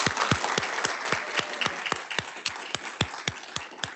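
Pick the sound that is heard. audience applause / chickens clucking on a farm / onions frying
audience applause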